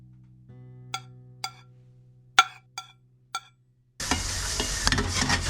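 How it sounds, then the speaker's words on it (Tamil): Milk boils over on a home kitchen stove: a few sharp clinks give way to a sudden, loud, continuous hissing sizzle. "பால் பொங்கி அடுப்புல இருந்து வழிஞ்சிருக்கு"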